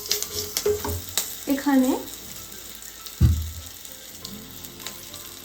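Mustard and poppy seed paste dropped into a hot pan of spiced masala, frying with a steady close sizzle and a brief stir or clatter midway, while someone talks briefly over it.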